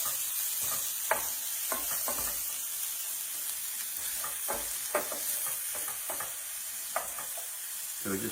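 Meatballs frying and sizzling in a pan for messy meatball buns, a steady close crackle with scattered pops and the occasional scrape of stirring.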